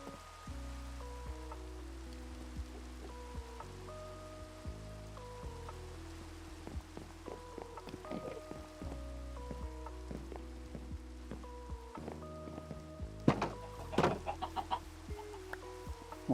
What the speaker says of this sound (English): Trying to be efficient with the rain while it lasts.